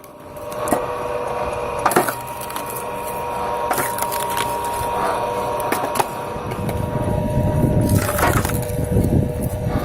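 A homemade firewood log splitter works through logs, with loud cracking and splintering bursts of wood over a steady mechanical hum, close up and alone.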